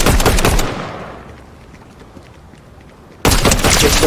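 Rapid automatic hip-fire gunshots in a video game rattle loudly in a dense burst, fade into a short quiet tail, then resume abruptly with another fast volley.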